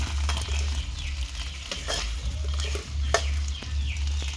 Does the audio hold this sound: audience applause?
no